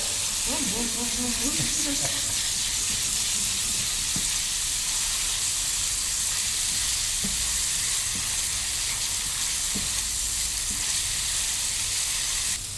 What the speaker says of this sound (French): l'avantage, c'est que c'est des tout petits légumes, ça va cuire très vite